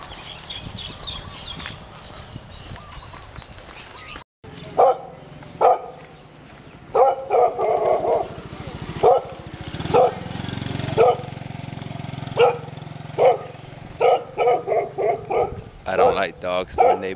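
Street dogs in Thailand bark repeatedly in sharp, loud bursts at close range, with yips and whimpers mixed in, while an engine drones and a person talks.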